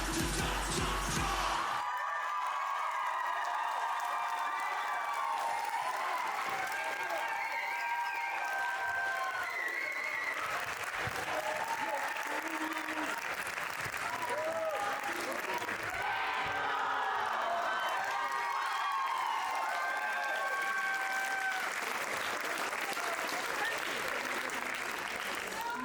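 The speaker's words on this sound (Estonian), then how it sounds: "veel kord suur aplaus Veenusele!" A large audience at the MURG Playbox 2024 show cheers, whoops and applauds a performer in a long, dense, loud roar of clapping and yelling that keeps going without a break, with scattered shouted voices.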